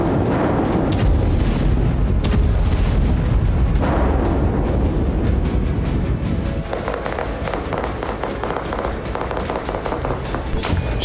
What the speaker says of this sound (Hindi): जमीन पर इजरायली सेना आईईडी लगाकर धमाके कर रही